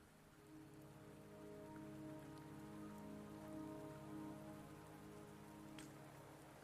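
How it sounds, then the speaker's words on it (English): Steady rain falls in the video game Wuthering Waves, a dense, even patter that runs without a break over a low tonal hum, with no one speaking. "Don't worry, the rain won't last much longer."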